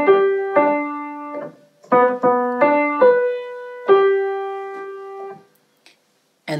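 Solo piano plays the opening phrases of a pop song as a simple primer arrangement, a clear melodic line of single and repeated notes with short pauses between groups, close and unaccompanied.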